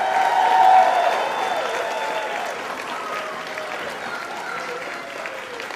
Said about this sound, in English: one more round of applause for our third grader